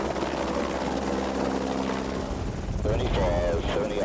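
Helicopter leaving a ship's flight deck gives a steady loud rotor and engine drone throughout, with a voice talking over it.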